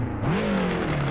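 A Reliant Robin's engine revs in the Assetto Corsa racing game, a loud, steady motor drone that climbs in pitch and holds high for about a second with no voices.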